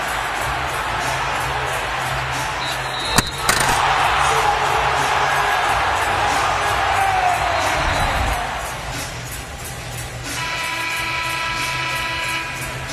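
Stadium crowd at a Wagner vs Missouri football game: a loud, sustained roar of cheering that swells after a sharp crack, then fades to a lower murmur, with no talk over it.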